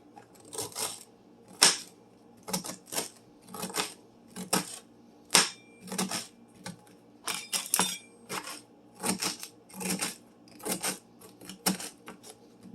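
A knife chops fresh celery stalks into half-inch slices on a cutting board, giving crisp, evenly spaced cuts in a steady rhythm, close and fairly quiet, with no talking.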